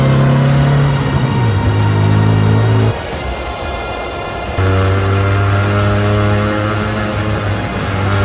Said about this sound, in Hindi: बाबा अपनी बाइक पर बैठते हैं और बुल्ली बाबा के पीछे बैठ जाता है और वो दोनों वहाँ से निकल जाते हैं